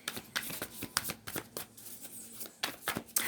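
Tarot cards being drawn and handled, a close, quiet series of quick papery flicks and shuffling snaps in irregular bursts, with no talk over them.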